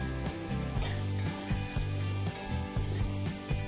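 Bitter gourd masala with turmeric and paste is stirred in a sizzling pan, with rhythmic scraping strokes of a spoon repeating about every half second over a steady frying hiss.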